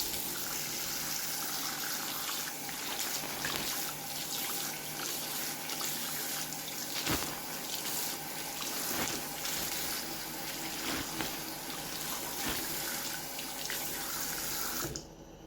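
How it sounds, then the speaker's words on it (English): Tap water runs steadily into a sink while a toy pony, a G3 My Little Pony being restored, is rinsed under it, a continuous close splashing flow lasting the whole stretch before cutting off at the end. "Do a quick rinse."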